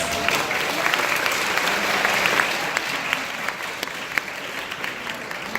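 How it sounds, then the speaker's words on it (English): A big round of audience applause at a valedictory address, even clapping that swells early then eases slightly, with scattered sharper claps standing out. "Let us give them a big round of applause."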